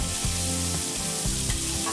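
Chili paste hitting a hot frying pan for a garlic green bean stir fry gives a loud, close, continuous sizzle with sputtering bursts and stirring scrapes, and no voices.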